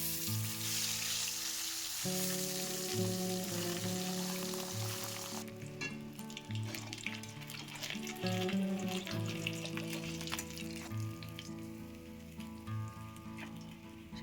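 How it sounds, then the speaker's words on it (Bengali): Pabda fish fry in hot oil, giving a continuous crackling sizzle under steady background music. "এইভাবে বাকি মাছগুলোও ভেজে নেব।"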